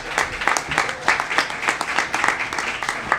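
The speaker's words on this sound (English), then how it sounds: "give yourselves another round of applause" An outdoor audience at the Envirothon in Croton Point Park claps for themselves, a brisk, fairly close round of applause with a loose, rippling rhythm of individual claps and no voices on top.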